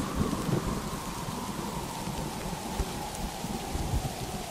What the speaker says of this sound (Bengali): আকাশ আরো অন্ধকার হয়ে ঝিরে ঝিরে বৃষ্টি শুরু হয়।